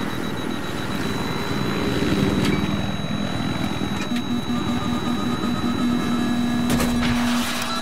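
A Little Bird helicopter in the Battlefield 3 video game whirs steadily throughout, a loud continuous rotor and engine drone with a pulsing low tone, mixed with game effects and brief bursts near the end.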